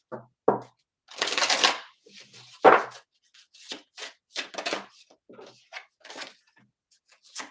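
Fairy Lenormand oracle cards being shuffled and drawn by hand, close and quiet, with a longer riffling burst followed by a series of short, separate flicks and slides, no talking.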